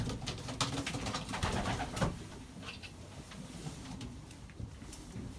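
Pigeons cooing in a loft, soft low coos repeated several times at close range over faint wing flutters and rustling, with no voices.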